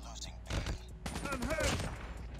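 Rapid machine-gun bursts from an RPD in Call of Duty Mobile, loud and close, firing in dense volleys over game noise and other effects.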